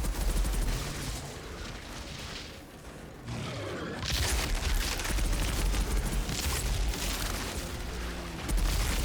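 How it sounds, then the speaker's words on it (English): Pistols fired in the video game Outriders come as dense, loud bursts of rapid gunfire with heavy booming impacts, briefly easing before resuming at full intensity. "Trying my pistols out here."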